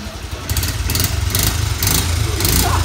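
Small single-cylinder engine of a restored 1984 Honda Z50R minibike idling and puttering close by, with a steady low throb and light rhythmic pulses of throttle.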